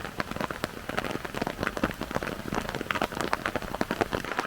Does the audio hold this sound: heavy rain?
yes